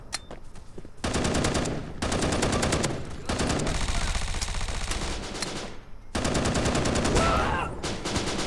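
Bursts of automatic gunfire from a weapon in the shooter game Bullet Force, loud and close, coming in several long sustained volleys separated by brief pauses.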